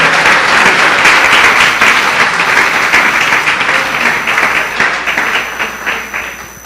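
Church congregation at Igreja de Nova Vida do Catete bursts into loud, dense applause that gradually thins out and fades over several seconds, with no voices on top.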